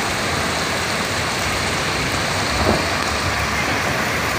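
Heavy rain pours down steadily and loudly as floodwater rises from a street manhole, a dense continuous hiss of downpour and rushing water with no break, one slightly louder splash midway.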